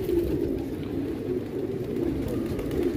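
Pigeons coo on a rooftop, low soft rolling calls repeating over a steady outdoor hum, fairly close and fairly faint.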